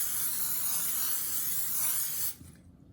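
Propellant-free olive oil spray hissing steadily onto a baking sheet for sheet pan nachos, a close, continuous spray for about two seconds that then stops abruptly.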